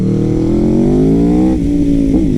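An Aprilia RSV4 sport motorcycle of 217 hp revs loudly and up close, its engine note climbing steadily, then dipping briefly and flaring once more, with no voices over it.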